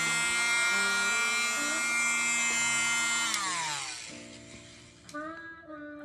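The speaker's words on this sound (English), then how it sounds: "use my little vacuum and get the excess" A small handheld vacuum whirs steadily and close, cleaning excess pastel dust off a pastel background, its motor tone sliding down as it powers off partway through, followed by a few faint handling sounds.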